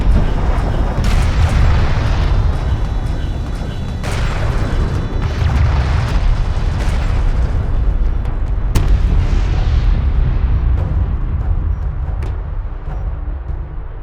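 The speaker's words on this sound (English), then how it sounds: "A turret is under fire." Explosions and artillery fire pound a turret in the desert strategy game Homeworld: Deserts of Kharak, a dense, loud barrage of rumbling booms with several sharp impacts cutting through the continuous din.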